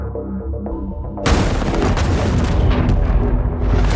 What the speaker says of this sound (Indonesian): Namun dari luar, tangki bahan bakar meledak hebat.